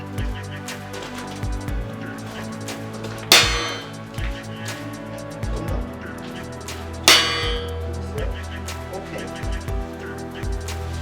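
Two sharp metallic strikes ring out a few seconds apart as the top of a steel H-beam is lightly hammered during structural reinforcement work, over a busy background of softer knocks and clatter.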